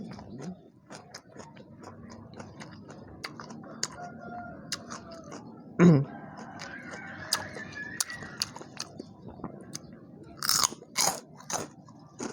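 Crunchy squid from a spicy Thai seafood salad being chewed up close, a steady run of wet crunching and biting with a few sharper crisp bites, no talking.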